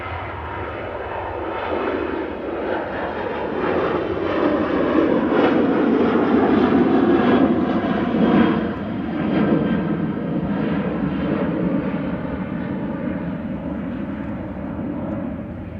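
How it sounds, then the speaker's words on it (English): A Ryanair passenger jet departing Manchester Airport for Cologne, a broad engine roar that swells to a peak and then slowly fades, heard from a distance with no talk. "This is Ryanair departing to Cologne with flight"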